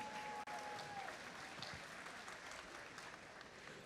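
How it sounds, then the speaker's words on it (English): An audience claps steadily for referees at a robotics district competition, sustained, dense applause filling the space without a break, with a faint whistle-like tone early on. "can we give our referees a huge round of applause?"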